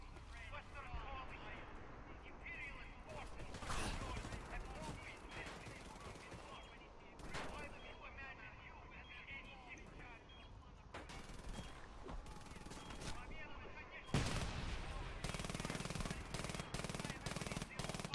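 A full magazine is emptied at a sentry gun in Frontlines: Fuel of War, heard as steady rapid automatic fire in long bursts. The loudest volley comes near the end, with someone talking throughout.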